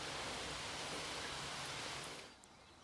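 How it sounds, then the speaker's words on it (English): Steady rain hisses down on a hiker on the Pennine Way in England, a dense, even wash of droplets nearby that fades slightly toward the end. "it's raining again on me"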